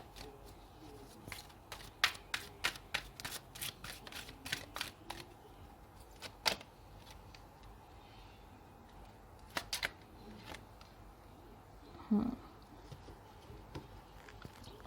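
An oracle card deck shuffled by hand, a long run of quick crisp snapping riffles and soft papery pats, close and fairly loud, with brief gaps and a louder flurry near the end.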